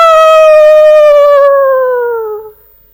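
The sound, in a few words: voice imitating a dog howling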